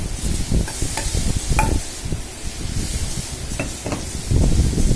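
Sugar added to a yogurt-coated food mixture in a pan and mixed in, with steady scraping and stirring sounds, a light sizzle underneath, and a few sharp clinks along the way.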